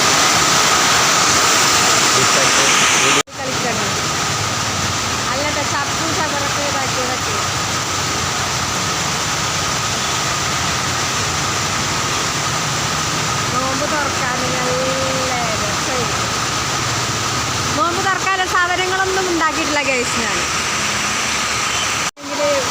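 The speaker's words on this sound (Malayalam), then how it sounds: "അത്ര മഴയാണ്" Heavy rain pours down on a flood-prone area, a steady dense roar of falling water running throughout, with people talking over it.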